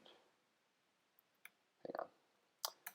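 A few faint, irregular keystrokes on a computer keyboard, tapped while a comment is typed into code, some single and some in a quick cluster, heard close in a quiet room.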